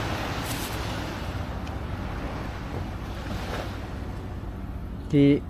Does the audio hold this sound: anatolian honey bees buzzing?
no